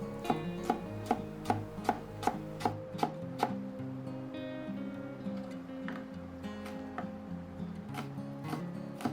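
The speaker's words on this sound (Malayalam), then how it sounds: "ഇനി ടൊമാറ്റോ ഇതേപോലെ തന്നെ ചെറുതായിട്ട് കട്ട് ചെയ്തെടുക്കണം." Tomato being chopped into small pieces for Lebanese tabbouleh salad, a regular series of sharp knife taps on a board, close and clear, over faint background music.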